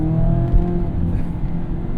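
Mazda Miata ND3 engine held in a steady, loud drone through a second-gear pull, continuous with no break and no voices.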